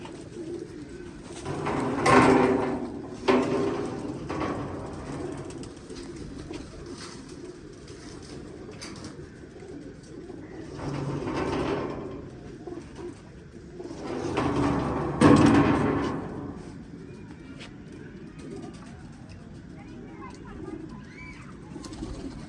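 Domestic pigeons on a rooftop loft coo in soft, repeated rolling calls, rising and falling in a few longer swells at close range with background noise and no talk.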